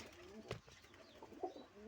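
Pigeons in a loft housing racing birds, soft low cooing calls heard faintly at close range, a few brief coos spread over a couple of seconds against a quiet background.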